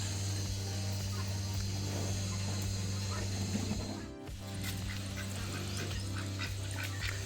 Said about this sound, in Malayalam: അപ്പുറത്ത് വേറെ താറാവ്